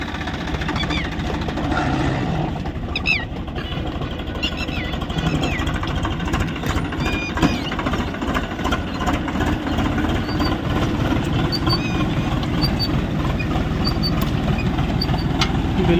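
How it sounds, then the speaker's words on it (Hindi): A tractor pulling a garlic seed drill chugs steadily at idle-like pace, a continuous low rumble with faint clatter, running alone without talk. "बिल्कुल शांति से ट्रैक्टर चला रहे हैं"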